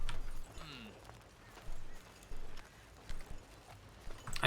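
Horse hooves clatter in a quick galloping clip-clop as a runaway horse-drawn wagon races along in a Wild West roleplay video game, with brief voices over the top.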